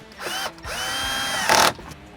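Power drill driving a bolt back into a Freightliner Cascadia semi-truck cabin map light fixture, a few short whirring bursts building to a louder final run and stopping, close up with no talk.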